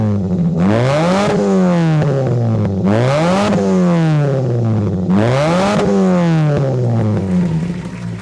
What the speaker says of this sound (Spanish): el escape, que suena este coche, ¿cómo suena? Escuchadlo.